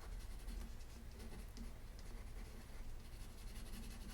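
Colored pencils scratch steadily across a page in a soft, continuous rasp of close strokes with no speech.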